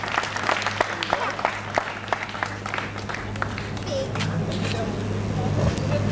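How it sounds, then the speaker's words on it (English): Audience applause at a community event honoring a prize winner, steady clapping spread across the clip over a low constant hum, with voices and traffic-like background noise underneath. "A louder applause, ladies and gentlemen"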